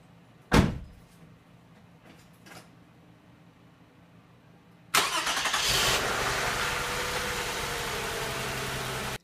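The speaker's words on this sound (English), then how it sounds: "Now we'll reconnect the battery and start her up." A car door thuds shut, then after a pause a Toyota Sienna 3.5L V6 cranks briefly and catches, settling into a steady, loud idle close by.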